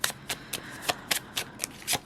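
A deck of playing cards is riffled and shuffled in a quick, uneven series of about nine crisp bursts, close and clear with no talking.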